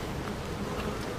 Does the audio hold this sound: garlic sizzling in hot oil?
no